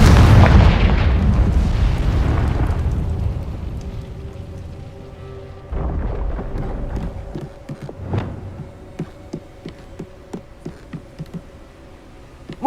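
A Confringo spell explosion in the Hogwarts Legacy video game, one loud booming blast that rumbles and fades, followed by a second impact and a string of sharp crackling pops.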